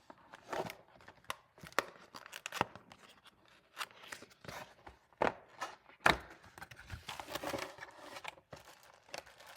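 Packaging of a Royal Kludge RK87 compact mechanical keyboard is handled during unboxing, with scattered crinkles, tearing and soft knocks at close range and no talk.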